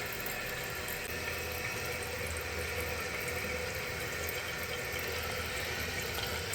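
Water from a toilet tank refilling steadily after the flapper is lifted and lowered, a continuous hiss and gush of running water close by, alone without talk.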